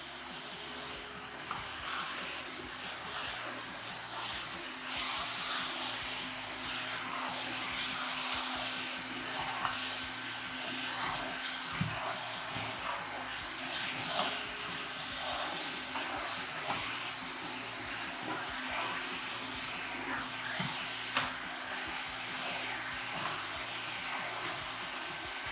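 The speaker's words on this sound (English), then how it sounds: "So turn the vacuum on" Steam cleaner with its vacuum running, working over hard bathroom surfaces such as urinals, stalls, grout and fixtures, giving a steady broad hiss and motor whir throughout with no speech.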